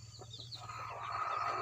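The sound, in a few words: brooding hen clucking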